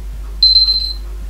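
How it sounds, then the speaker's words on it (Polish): A kitchen timer sounds a single high, steady electronic beep lasting about half a second over a constant low hum. "Andre, możesz minutnika nastawiać."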